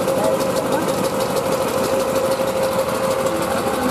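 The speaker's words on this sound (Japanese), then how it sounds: "とりあえずエンジンかかったんで" A rice transplanter engine runs at a steady idle, close and loud, with a continuous mechanical drone and faint knocking vibration holding evenly throughout.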